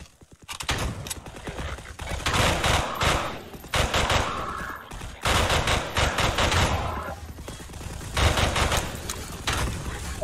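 Heavy gunfire in a parody movie, with dense, sustained volleys of rapid shots that keep breaking off and resuming, loud and close throughout.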